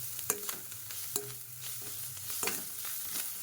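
Coriander rice with a pinch of chilli powder being mixed in a pan, with soft scraping stirs and a faint low sizzle, close and fairly quiet, with no talking.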